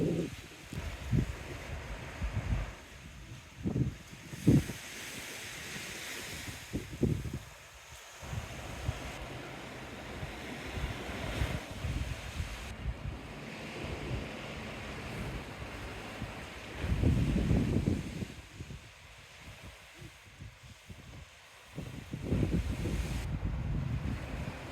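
Waves break and wash in on Ness Beach at Shaldon, a rough surging roar that swells and recedes unevenly, buffeted by gusts of wind noise on the microphone.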